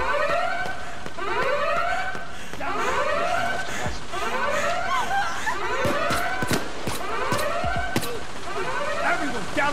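A wailing alarm siren in the heist video game Payday 2 sweeps up and down in a steady cycle of about one rise every second and a half, loud and continuous, with voices talking over it.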